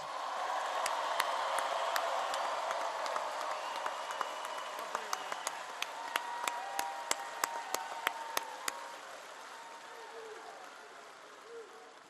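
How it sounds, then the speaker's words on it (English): A rally crowd in Monroe, Louisiana applauds for President Donald Trump, a dense wash of clapping and cheering that holds steady, with sharp individual claps popping out near the middle before the noise slowly thins. "Let's give him another round of applause."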